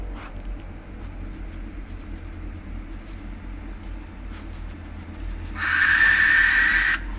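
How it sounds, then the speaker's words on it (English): A masked owl lets out a single harsh, rasping screech lasting over a second. It comes in fairly loud after a stretch of quiet night ambience with a low background rumble. "The powerful talons of a masked owl could easily kill a young devil."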